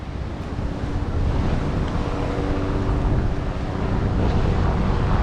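Ocean waves rolling in at a beach beside a pier on Brazil's west side, a steady broadband wash of surf with wind buffeting the microphone, continuous and fairly loud with no talking.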